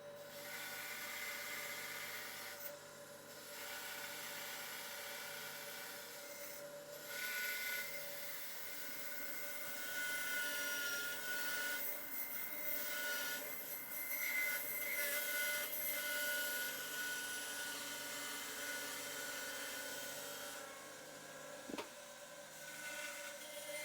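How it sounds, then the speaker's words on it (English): A bandsaw cuts a wooden piece for a chisel sharpening jig: a continuous motor hum and blade whir with a shifting, rasping cutting tone that rises and eases over roughly twenty-four seconds, ending with a brief knock. "I'm gonna go cut this out on the bandsaw."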